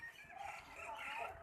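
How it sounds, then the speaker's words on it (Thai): Chicken clucking at a zoo, mixed into a busy, noisy background with people talking throughout. "มีไก่ด้วย"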